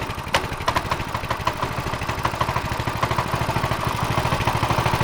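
A small engine runs with its choke slid over, chugging in a rapid, even, close rhythm of pulses with a light mechanical clatter and no talk.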